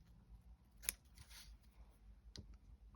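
Scissors cutting through paper cup sleeves, a few quiet, crisp snips close by with a sharp one near the start, faint and without talking.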